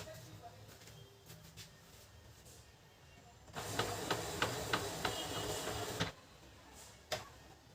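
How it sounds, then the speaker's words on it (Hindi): Epson L360 inkjet printer running a test print: a mechanical whirring burst of a few seconds with rhythmic ticking pulses from the print head, preceded and followed by quieter room noise. "टेस्ट प्रिंट यहाँ पर मैं प्रिंट करता हूँ"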